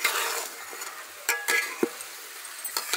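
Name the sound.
rice and vegetables being roasted with spices in a pan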